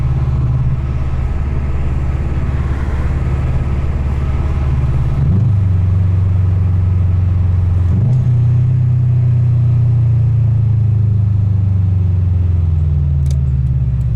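A 2011 Subaru WRX STI fitted with an aftermarket exhaust and downpipe drives along with a loud, steady low engine drone, rising in pitch through two gear changes near the middle and pulling hard afterward, heard from inside the cabin.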